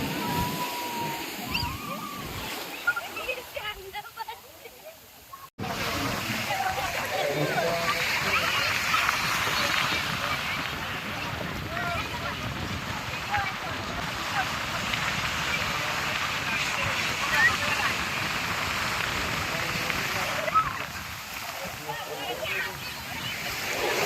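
Ocean waves wash and splash at Payyambalam beach in Kannur, a loud continuous surf roar close by, with people talking over it.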